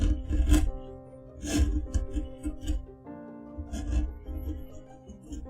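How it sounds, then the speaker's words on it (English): Wood is carved by hand with a gouge, cutting off the edge of a carving, giving rough rasping scrapes in uneven strokes, close and fairly loud, with a faint hum under them. "You normally carve off the edge."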